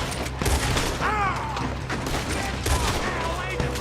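Rapid bursts of gunfire from a video game shootout against a horde of enemies ring out in loud, repeated volleys, with sharp cracks and some mechanical clatter between the shots.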